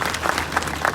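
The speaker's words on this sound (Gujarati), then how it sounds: "એમને પણ તાળીઓના નાદથી વધાવશું." Audience at a Hindu Dharma Sena convocation ceremony in Panchmahal claps steadily, a dense, moderately loud patter of many hands filling the whole moment.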